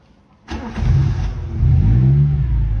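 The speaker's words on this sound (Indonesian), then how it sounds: "Langsung aja kita starter mesinnya." A used car's engine starts with a sudden burst after half a second of quiet, then holds a loud, close, steady idle.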